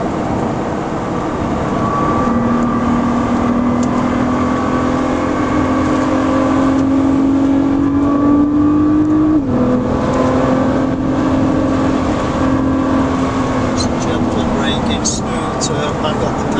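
A Nissan GT-R R35 accelerates on the Oulton Park circuit, its engine note climbing steadily and loud, then dipping briefly at a shift before pulling again, with an instructor talking over it.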